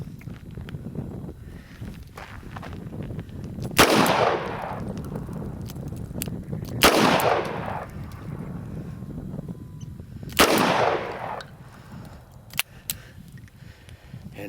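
Gunshots from a Taurus 82 revolver and a Tokarev pistol, three loud single reports spaced several seconds apart with a fainter crack near the end, each followed by a short outdoor echo over a steady background rumble.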